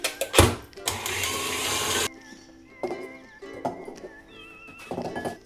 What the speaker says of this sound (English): Put your zest in your mixer